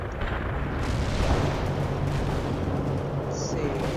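Rumbling artillery barrage in the World in Conflict strategy game, a steady low roar of distant blasts and booms that continues throughout with no clear pauses.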